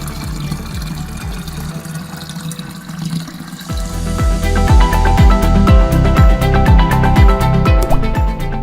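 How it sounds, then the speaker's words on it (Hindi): A tap at a public water filtration plant runs into a container, a steady loud gush of splashing water that grows fuller partway through, with no talking. "सामने फिल्टर से पानी ना भर लें"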